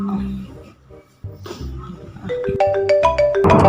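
A telephone ringtone plays as a run of bright, evenly spaced electronic tones in the latter half, rising in level toward the end, after a stretch of muffled room noise at the start.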